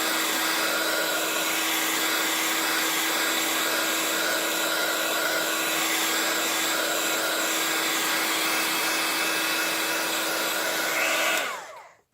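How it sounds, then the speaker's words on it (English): A heat tool blows hot air onto craft foam, a loud, steady whooshing roar with a fixed hum that runs continuously and then cuts off abruptly near the end. "I'm directing the heat on the foam"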